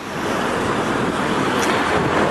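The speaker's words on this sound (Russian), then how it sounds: "Ой, ветер задувает камеру." Wind buffets a nearby camera microphone in a loud, continuous rumbling roar with a faint hiss, no voices present, at a street intersection in Chisinau.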